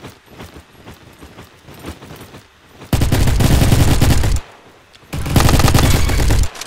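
Two long bursts of rapid automatic gunfire from a fast-firing gun in the Roblox shooter Bad Business, loud and dense, coming after a quieter stretch of game sound.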